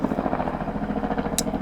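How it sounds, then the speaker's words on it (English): A helicopter's steady rotor chop pulses close and fairly loud through a kitchen setting, its rhythmic thumping continuous with no talk, and a brief high clatter near the end. "Chopper."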